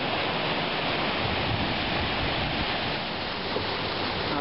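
Waterfall on the Temperance River, a steady, loud broadband roar of falling water that fills the whole stretch without pause, close and unbroken.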